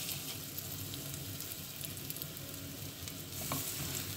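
Breaded swordfish fries in a very hot pan with a thin drizzle of olive oil, giving a steady, close crackling sizzle with no talk.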